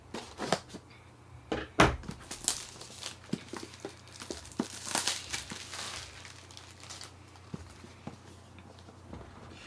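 A knife cuts into the cardboard and plastic packaging of a Google Stadia controller, making close, quiet crinkles, rustles and scattered sharp clicks and taps with no talk.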